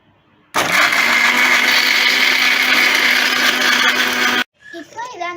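A kitchen blender grinds Oreo biscuit pieces into powder with a loud, steady whirring roar lasting about four seconds, then stops abruptly before a voice speaks.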